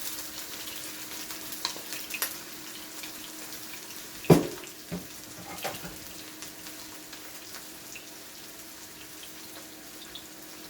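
Low, soft sizzling of onion, garlic and pepper frying in oil, with a few sharp clatters and scrapes partway through, like a utensil knocking the pan.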